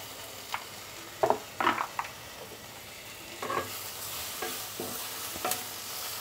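Spiced dried fish chutney with turmeric and chilli powder stirred in a pan, giving scattered scraping clicks of the spoon over a soft, steady sizzle, fairly close and without talk.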